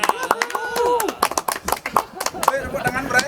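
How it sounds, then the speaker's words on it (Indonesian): Audience clapping during an interview with the Navicula drummer, a quick irregular patter heard under voices talking and calling out. "Tepuk tangan"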